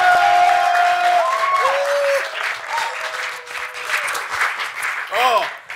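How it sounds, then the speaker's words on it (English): A studio audience applauds and cheers for comedian Chigul arriving on a talk show, with sustained clapping under tonal music and voices speaking over it. "a round of applause for the fabulous"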